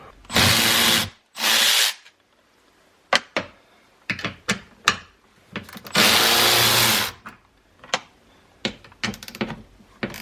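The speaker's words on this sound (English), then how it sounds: "We will have to drill out this guy right here" A power drill whirs in two long bursts, drilling out a hole while fitting tow mirrors to a Chevrolet Silverado, separated by clicks, knocks and short tool rattles close by.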